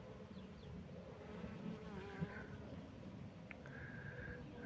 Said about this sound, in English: we've got full of bees, full of insects